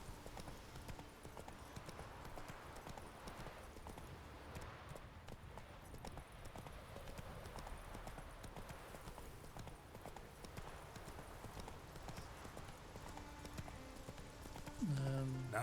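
The horse Roach trots with steady clip-clop hoofbeats in The Witcher 3, a continuous rhythmic patter over a faint ambient bed, with a voice speaking briefly near the end.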